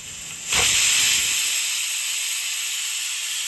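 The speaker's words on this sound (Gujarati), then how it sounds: "આપણે છ સીટી વગાડી લઈશું કુકરમાં" A pressure cooker cooking khichdi suddenly releases steam through its whistle in a loud, sharp burst of hissing that holds steady and strong until the end.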